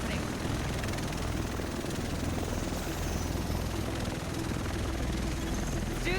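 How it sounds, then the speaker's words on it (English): A helicopter in The Division video game arrives with a steady, loud rotor-and-engine roar filling the whole stretch, constant and close, with no break or fade. "Here it comes. The rest of us should be in this chopper."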